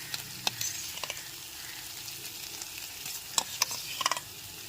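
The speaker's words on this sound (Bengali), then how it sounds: "টমেটো সসটা দিয়ে খুব ভালো মতো একবার মিশিয়ে নিলাম" A spoon stirs tomato sauce into pasta in a pan, making soft scraping and sticky movement over a faint low sizzle, with a few sharp clinks against the pan near the start and end.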